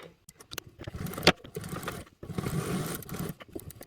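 Sewing machine top stitching a bag with a 1/8 inch seam allowance, in short bursts of close, steady whirring broken by pauses and handling clicks.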